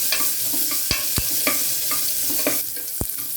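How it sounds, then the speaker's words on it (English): Ten shallots fry in a pot with curry leaves, a steady sizzle broken by several sharp clinks and scrapes of a spoon stirring, with no talk. "Here I'm frying the shallot because once we add the masalas, it will not get cooked."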